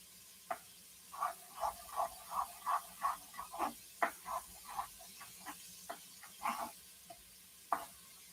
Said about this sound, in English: Those onions cooking?